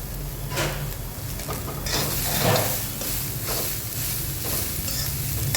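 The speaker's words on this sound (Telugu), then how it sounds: "ఇప్పుడు క్యాబేజీ, దాంతోపాటుగా క్యాప్సికమ్ కూడా వేసేసుకొని ఫ్రై చేసేసుకుందాం" Cabbage and capsicum stir-frying in a pan make a loud, dense sizzle that never lets up, with repeated scraping and stirring strokes across it and no talking.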